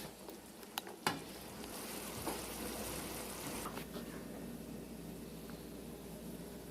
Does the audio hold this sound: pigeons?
no